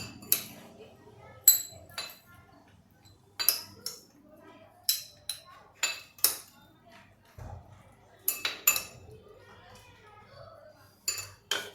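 Utensils clink against a bowl as salad is served during dinner preparation in a home kitchen, with sprouted moth bean curry, rice and papad alongside. About a dozen sharp, close ringing clinks come in irregular clusters over quiet background.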